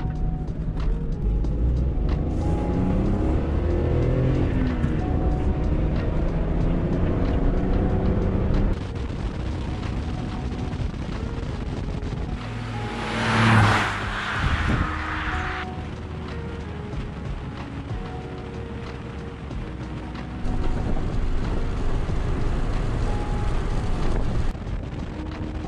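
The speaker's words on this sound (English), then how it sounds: "I'm gonna go chuck it through some twisties," Honda Insight hybrid car driven hard through twisty roads, a steady engine drone mixed with rushing wind noise throughout, rising and shifting in tone as it accelerates and brakes, with no talk.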